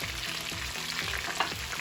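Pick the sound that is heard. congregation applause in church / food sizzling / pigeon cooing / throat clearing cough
food sizzling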